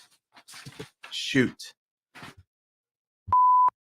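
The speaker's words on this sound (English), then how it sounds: "There. I beeped it." Someone speaks briefly in bursts, then a single sharp electronic censor beep sounds, a steady pure tone lasting under half a second.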